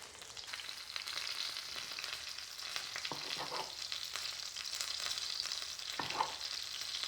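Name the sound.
chicken cutlets frying in a pan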